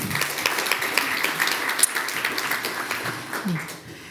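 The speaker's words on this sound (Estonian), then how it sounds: "suur aplaus, Kristi Salum" An audience at an education technology talk claps to welcome a speaker, a moderately loud, continuous patter of hands with some voices mixed in, tapering off at the end.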